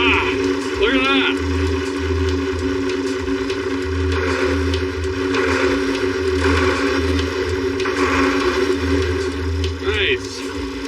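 A 1951 Ford F3 farm truck engine idles with a steady low rumble and periodic throbbing pulses, loud and close inside a shed, while someone talks over it.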